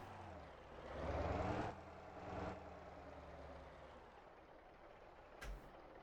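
A truck engine in the driving game Motor Town revs up, rising loud for a second or two, then eases back to a steady idle, with a brief air-brake-like hiss near the end.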